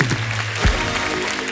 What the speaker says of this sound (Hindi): भाग्यश्री जी के लिए एक बार जोरदार ताली हो जाए।